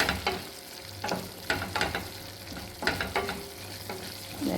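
Masala frying and being stirred in a pan, with repeated scraping strokes over a steady sizzle, close and moderately loud, no voices.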